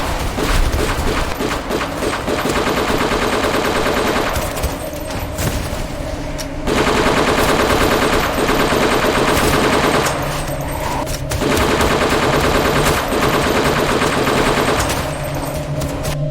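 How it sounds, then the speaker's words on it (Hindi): AK-47 gunfire fills an animated zombie action scene, loud sustained automatic bursts broken by a few short pauses, with no voices over it. "रुस्लान फायरिंग शुरू कर देता है।"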